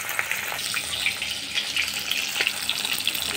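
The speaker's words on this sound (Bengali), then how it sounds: "এটা এখন সুন্দর করে ভেজে উঠাবো, একদম লাল লাল করে সুন্দর করে ভাজবো" Pieces of surma fish fry in hot oil, giving off a steady hissing sizzle with scattered small pops and crackles throughout.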